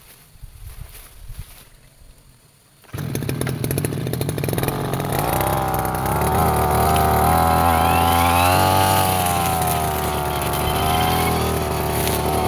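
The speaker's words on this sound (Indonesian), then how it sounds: "Pisau kita menggunakan Stanfix masih seperti biasa, dan mesin kita menggunakan Yasuka." A Yasuka grass cutter fitted with a Stanfix blade cutting swamp grass: after a quiet start the engine jumps to a loud, steady high-pitched whine with slight pitch shifts as it bites into the grass, up close.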